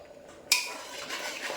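A spoon stirs a vegetable kurma curry with coconut in a cooking pot: one sudden metallic clink against the pot, then faint scraping and stirring, quiet and close.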